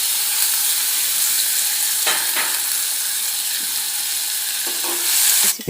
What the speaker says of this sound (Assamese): নহৰুখিনি ভালকৈ ভাজি লওঁ।